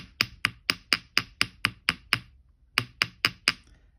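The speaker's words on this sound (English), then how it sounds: "So I'm just giving that a light tap." A small hammer lightly taps a wire-wrapped earring: about ten crisp, quick, evenly spaced metallic ticks, a short pause, then a few more, close and quiet with no talk.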